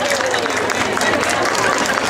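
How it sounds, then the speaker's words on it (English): A hypnosis show audience at a women's show applauds, dense, steady clapping filling the room for a couple of seconds with no pause. "Give them a round of applause, everyone."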